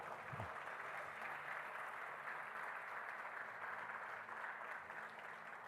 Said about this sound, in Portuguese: Quem crê, aplauda o Senhor também.